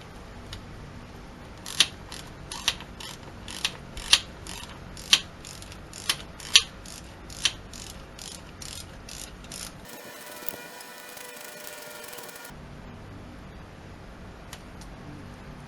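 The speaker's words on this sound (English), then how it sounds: "First thing I'm going to attack is putting this missing bolt in." Ratchet wrench tightening a missing metric bolt on a first-generation Chevy S10 Blazer, a run of sharp regular clicks up close followed by a brief steady mechanical whir, then quieter ticking.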